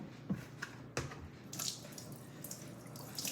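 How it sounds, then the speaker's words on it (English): Water is poured off soaked walnuts from a Sam's Club bag, giving soft splashes and drips with a few sharper trickles and spatters, fairly quiet and without speech. "So I'm gonna pour this water off."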